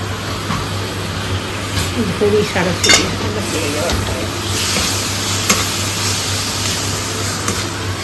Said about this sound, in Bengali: এবার মশলাটা টমেটোটা সব ভালো করে কষাতে হবে